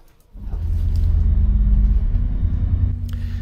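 A local bus reversing off its stand in Cornwall gives a deep, steady engine rumble that swells quickly and holds close and loud throughout, with no talking.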